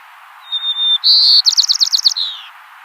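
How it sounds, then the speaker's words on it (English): White-crowned sparrow song from the coast side of San Mateo County, a clear close whistle rising into a stronger note, then a rapid run of about seven buzzy trilled notes ending in a falling slur, alone. "I showed you a white-crowned sparrow, and I wanted to see if I can play this for you here."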